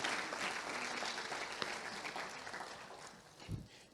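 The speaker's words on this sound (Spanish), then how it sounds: "Si va a aplaudir, aplauda." A church congregation applauding during a sermon, steady scattered clapping from many hands that fades gradually, with a low thump near the end.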